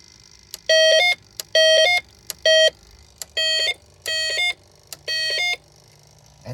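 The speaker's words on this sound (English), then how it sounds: "The longer you hold it, the longer the alarm plays." A Snap Circuits burglar alarm beeps in six loud, even electronic bursts, each a bright buzzing tone about half a second long, with short clicks from the button between them and no talk.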